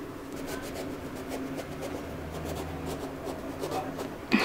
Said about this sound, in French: Maintenant que j'ai coupé les deux aubergines en lanières